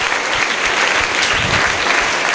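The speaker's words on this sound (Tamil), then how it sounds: "கைத்தட்டல் ஒன்று கொடுக்கடாபா" An audience at a student motivation seminar claps in a short, dense burst of applause lasting a couple of seconds, loud and close.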